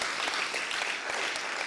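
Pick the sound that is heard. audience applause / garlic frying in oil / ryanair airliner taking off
audience applause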